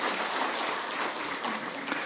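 A church congregation claps continuously for those newly baptised, including infants, at a sacrament Sunday service, the applause even and moderately loud throughout.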